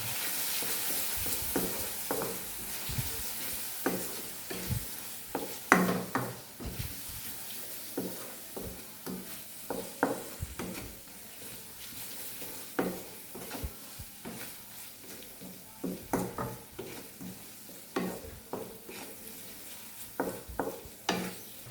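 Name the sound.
stirring spices in a frying pan for gathiya curry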